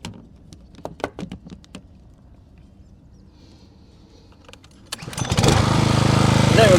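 Homemade outboard boat motor: a few knocks and pulls, then the small engine catches and runs at a loud, steady buzz close by.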